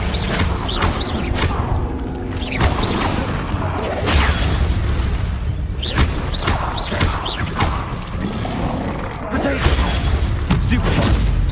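Confringo explosive spells bursting in Hogwarts Legacy combat, repeated booming impacts and crashes mixed with busy battle noise, with a voice speaking over them throughout.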